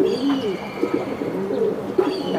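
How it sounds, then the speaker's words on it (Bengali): Big-sized racer pigeons cooing close by, several soft rolling coos repeating in a loose rhythm with no talking. "একবারে বিগ সাইজ কোয়ালিটিফুল কবুতর"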